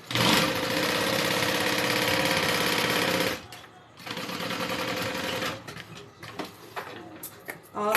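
A sewing machine runs in sustained bursts while stitching a backpack, with a close, steady whirring drone, a pause, a second long run, then scattered clicks and handling noises.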